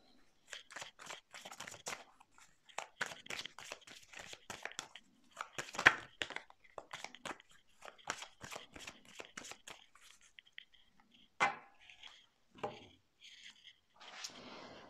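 Tarot cards shuffled and drawn by hand in a quiet room, a run of crisp riffling and papery flicks in uneven bursts, then a few separate sharp snaps and slides as cards are laid out, close and fairly soft with no talking.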